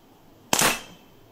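A single sharp CO2 air gun shot at a target, from a canister nearing the end of its charge, cracks close and loud, then decays quickly into silence.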